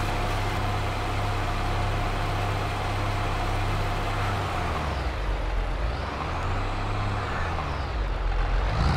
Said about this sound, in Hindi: ट्रैक्टर को आगे कर लेते हैं भाई